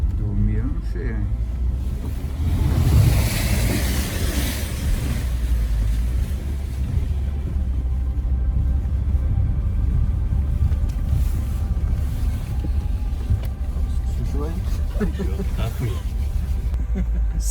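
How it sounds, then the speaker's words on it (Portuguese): Cold wind blows hard across frost-covered highland grassland at Campos do Quiriri, a steady, rough rush that buffets the microphone while people talk under it. "olha o vento que o gelo tá vindo."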